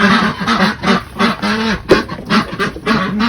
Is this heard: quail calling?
yes